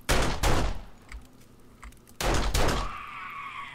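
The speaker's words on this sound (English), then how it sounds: "So it fires two at a time." A gun in the video game 7 Days to Die that fires two rounds at a time: a pair of loud close shots, a quiet pause with small clicks, then another loud double blast with a ringing tail.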